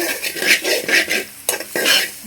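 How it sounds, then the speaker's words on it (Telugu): Prawn shells being dry-roasted in a pan for a tomato dal and prawn-shell chilli powder, stirred with a spatula that scrapes the metal in repeated strokes over a light sizzle, close and fairly loud, with no talking. "ఇదైతే ఇక దోరగా వేపుకుందామండి"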